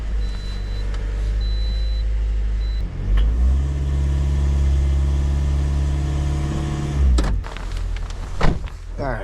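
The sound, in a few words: 2013 Toyota Corolla engine running, checked for misfire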